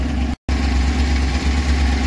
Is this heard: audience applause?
no